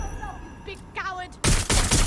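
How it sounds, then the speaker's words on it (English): Gunfire in the Watch Dogs: Legion game: a burst of loud shots suddenly breaks in after a stretch of voices and electronic chirps, then a second volley follows immediately. "Someone's shooting!"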